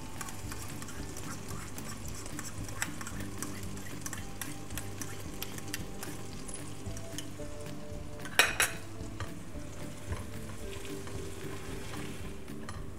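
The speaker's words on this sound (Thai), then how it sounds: "ผัดอีกจังหน่อยก็ได้พี่น้อง" Pork belly is stir-fried with oyster sauce, seasoning sauce and salt in a pan for braised eggs, giving a soft, even sizzle at low level with occasional light utensil clinks and one brief louder clatter.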